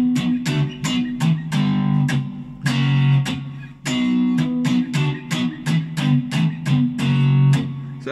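Single-string electric guitar riff, played as sharp plucked notes with muted-string rhythmic chugs between them, steady and loud with no talking.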